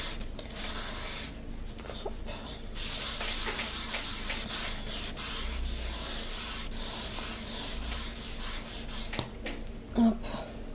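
A work surface is wiped clean with a pad during nail stamping, giving soft, continuous rubbing and scrubbing strokes close up and fairly quiet, with small pauses between passes.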